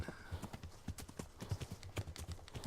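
Horse hooves galloping in the medieval game Kingdom Come, a fast rhythmic clip-clop of regular thuds running through the whole stretch, fairly close, with no talk over it.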